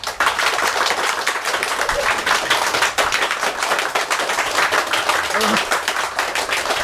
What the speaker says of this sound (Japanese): 皆様の拍手で決まりますので、どちらが面白かったかで拍手をお願いいたします。